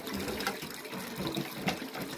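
Water from a countryside water source flowing steadily into a bottle, a continuous close gurgling rush with no talking.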